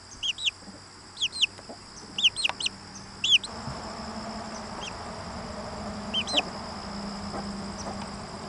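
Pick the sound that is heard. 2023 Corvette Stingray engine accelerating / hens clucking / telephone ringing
hens clucking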